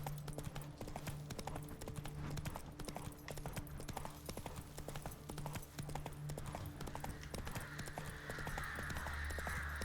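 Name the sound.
horse Roach galloping hooves, from a video game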